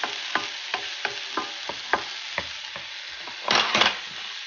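Mushrooms, onions and peppers sauté in a pan with butter while a spatula taps and scrapes in a steady rhythm over a soft sizzle, ending in a louder burst of frying; close by, no talking.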